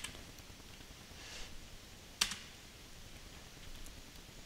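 A few sparse keystrokes on a computer keyboard during a Windows Server setup, faint and close, with one sharper click standing out amid quiet room noise.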